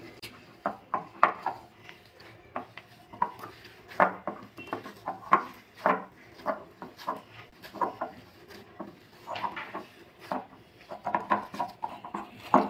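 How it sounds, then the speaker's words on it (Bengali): Potato dough being kneaded by hand in a bowl with chopped coriander leaves mixed in, giving close, repeated soft squishing and thumping presses in an uneven rhythm, with no talk. "দেখলে বুঝতে পারছেন তো কীভাবে আমি মাখছি। ঠিক এভাবে মেখে নিতে হবে।"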